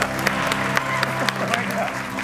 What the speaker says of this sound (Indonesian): Tepuk tangan untuk Mas ADMS.